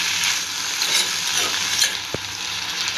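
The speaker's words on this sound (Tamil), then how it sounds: "இதையும் நம்ம நல்லா வதக்கணும்" Mint and coriander leaves sauté in a hot pan for a mint chutney, a continuous bright sizzle with soft stirring scrapes and one sharp tap of a spoon against the pan near the end.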